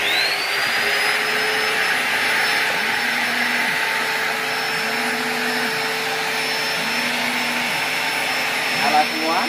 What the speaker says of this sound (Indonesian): satu lagi gerinda kita nyalakan dulu